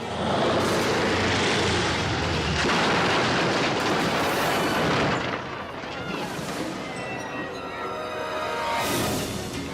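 An airplane in trouble comes down low over a baseball field during a game, its engine a loud, continuous roar that swells, eases off midway and rises again, filling the whole stretch with broad rumbling noise.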